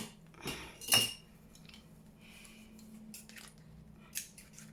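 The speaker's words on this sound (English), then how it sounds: "Get my scissors." Blunt scissors snip through Tim Holtz craft paper for a junk journal, with a couple of sharp, close cuts near the start and another crisp snip later amid quiet rustling.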